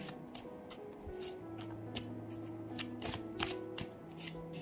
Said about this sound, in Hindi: मैंने 2 कार्ड्स निकाले हैं आप लोगों के लिए, देखते हैं।